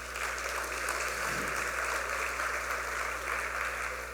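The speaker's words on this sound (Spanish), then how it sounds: "La recibimos con un fuerte aplauso." Strong applause from the audience at a legal seminar welcoming a speaker, a continuous even wash of clapping heard over a steady electrical hum.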